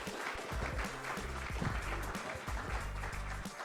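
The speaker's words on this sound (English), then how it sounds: "Big round of applause." A live audience applauds in a short, full burst that fills the space, with low music or a tonal bed droning beneath the continuous clapping.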